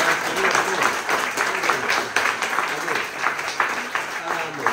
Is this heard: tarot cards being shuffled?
no